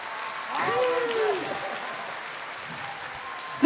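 Audience applause at a street dance, freestyle football and kendama battle runs as a steady wash of clapping beneath a voice speaking over it, fading slightly toward the end.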